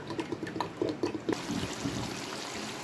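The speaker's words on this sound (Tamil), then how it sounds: "ஒரு லிட்டர் எண்ணெய் ஊற்றுறோம்" A litre of oil is poured into a pan of simmered herbs for homemade hair oil. The pour gives a short, close liquid glugging and bubbling, then a steady hiss and bubbling as the oil settles, with no talk.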